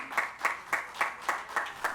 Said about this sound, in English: Please give them one more round of applause as we celebrate them.